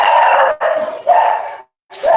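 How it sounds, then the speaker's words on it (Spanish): Several dogs bark loudly and close by in a run of sharp, drawn-out bursts separated by brief gaps. "Permítame en un momento que los perritos se callen."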